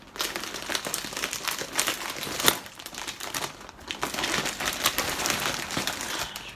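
Taped plastic wrapping on a parcel of crochet yarn crinkles and crackles in close, irregular bursts of handling, continuous throughout with brief louder scrunches and no talking.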